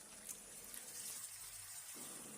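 About 400 grams of water poured into a pan of spiced Bengali fish curry, a soft continuous gushing splash that cuts off near the end.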